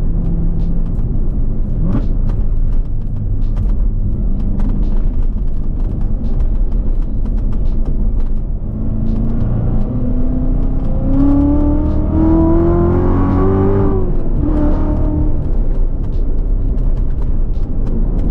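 A 650 hp Corvette C7 Z06 V8 engine rumbles and then revs hard while accelerating under load from inside the car, with a rising whine through the gears, loud and close throughout.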